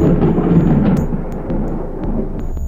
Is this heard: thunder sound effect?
yes